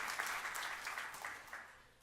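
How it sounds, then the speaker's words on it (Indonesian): A church congregation applauds during a sermon. The clapping is steady and sounds soft and distant, then slowly fades toward the end. "Tepuk tangan yang meriah untuk kemuliaan nama Tuhan"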